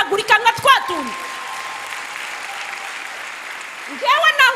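A church congregation breaks into sustained applause for about three seconds during a service, with a preacher speaking briefly before and after the clapping.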